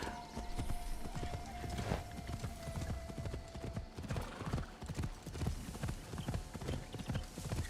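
Horse hooves clip-clop in the video game Assassin's Creed Shadows, a steady rhythmic walking gait heard up close and continuously, with occasional snorts or a faint whinny over ambient game sound.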